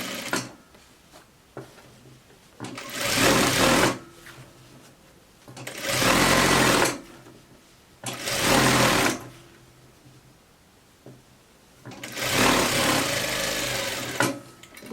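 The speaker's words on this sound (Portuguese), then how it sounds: "Costura e faz acabamento" Sewing machine stitching a coat, running in four loud sustained bursts of a few seconds each with quiet pauses between, close up and alone.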